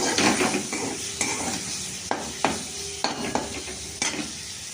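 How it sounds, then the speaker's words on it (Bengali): Turmeric and chili powder frying in a pan for a potato and cauliflower dish, a steady close sizzle broken by repeated clinks and scrapes of a spatula stirring against the metal. "তো দিয়ে আমি এটা একটু ভাজা ভাজা করতে থাকলাম।"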